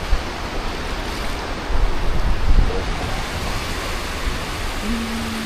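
Ocean surf breaking in a steady, close wash of broadband noise, swelling to a louder surge midway before settling back, with wind buffeting around; no talking.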